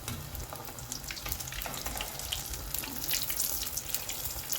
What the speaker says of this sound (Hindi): बहुत लाइट सा ऑयल हमारा गर्म है, बहुत तेज़ में नहीं डालेंगे फिर ये ऊपर से जल जाएंगे।